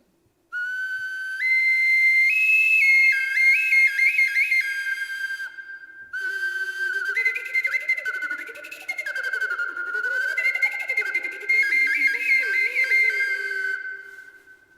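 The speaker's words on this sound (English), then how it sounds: "So we can sing and play at the same time. I'm going to demonstrate that with this little whistle type." A small two-hole bird-shaped clay whistle, missing its beak, plays bright fluttering whistle tones while a voice sings into it at the same time. Two sustained, warbling passages are separated by a brief gap, loud and close.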